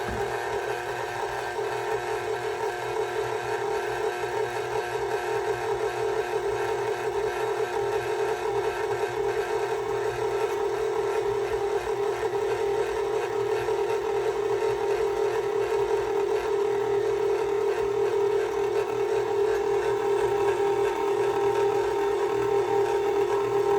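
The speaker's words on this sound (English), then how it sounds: "let's listen to some ASMR of mixers." A stand mixer kneads focaccia dough with a steady, continuous motor whir and hum that holds even throughout, moderately loud, with no voices.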